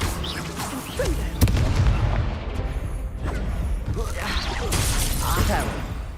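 Booming blasts and crackling spell impacts from a Hogwarts Legacy duel on hard difficulty, including a Confringo blasting spell, come as a sharp hit followed by rolling, layered explosions over several seconds.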